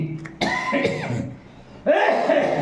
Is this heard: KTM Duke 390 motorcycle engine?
no